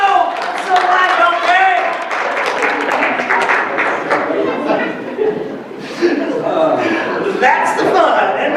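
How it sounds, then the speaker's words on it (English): Audience applause at a library branch show, scattered clapping mixed with chuckles and chatter from a small crowd, with voices talking over it throughout. "I'll give you a round of applause"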